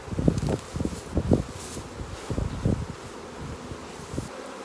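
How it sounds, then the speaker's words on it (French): Honeybees buzz around brood frames as they are shaken from a hive, giving bursts of low, dense buzzing in several uneven pulses against steady background hum. "J'ai secoué un cadre à l'intérieur. Je vais en secouer un autre."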